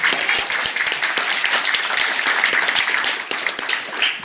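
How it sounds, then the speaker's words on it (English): Dense, steady round of applause at a local community meeting honouring a county councillor, many hands clapping close and loud throughout with no break. "I think a round of applause is due for Councillor O'Sullivan"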